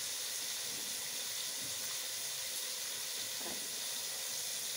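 Macaroni fries with spices in a pan, giving a steady, even sizzle and hiss that continues unbroken throughout at moderate loudness.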